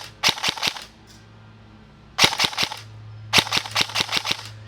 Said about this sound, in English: You can repetitively fire off shots, even though the trigger pull is relatively long.